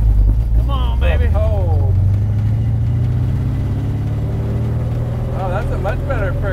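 A Chevrolet Nova's engine pulls hard in first gear, a loud, deep, rising roar heard from inside the car while people talk over it.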